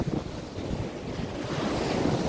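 Sea waves near a pier in Guam wash and surge steadily with gusts of wind buffeting the microphone, no voices.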